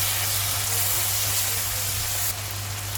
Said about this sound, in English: next I will add the paste of 2 tomatoes.